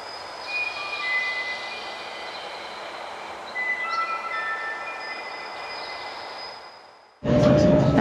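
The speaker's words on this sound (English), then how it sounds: "Now we're taking the train to Murren" A train climbing to Mürren in Switzerland rolls along with steady rumble and thin metallic wheel squeals, then a sudden louder burst of noise near the end.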